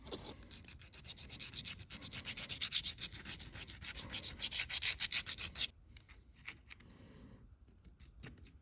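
Hand file drawn with a light touch across a burred steel collar from a Brown & Sharpe universal dividing head, a steady run of close, rhythmic rasping strokes that stop, followed by quieter scattered scrapes and taps.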